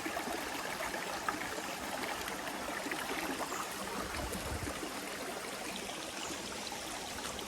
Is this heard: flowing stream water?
yes